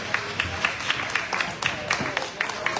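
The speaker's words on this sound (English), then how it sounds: "Give him a big round of applause" An audience applauds a blade shearer at the USA National Shearing Competition with a steady wash of clapping and periodic louder bursts, while a voice speaks over it.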